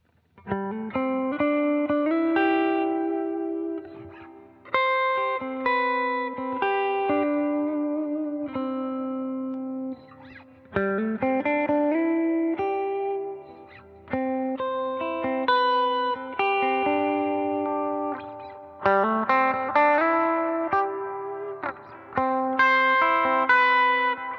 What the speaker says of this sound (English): This is just my always on tone with just my compression and my Tumnus pedal